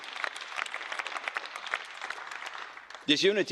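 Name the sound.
parliament applause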